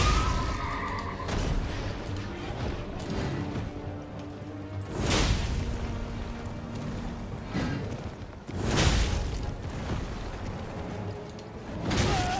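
Horses neigh in the video game Elden Ring amid combat whooshes and crashing impacts, several loud whinnies recurring through a busy, dense game soundscape.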